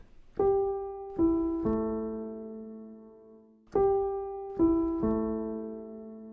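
Piano plays three single notes one after another, each left to ring and fade, then the same three-note descending pattern repeats: the intro of a song.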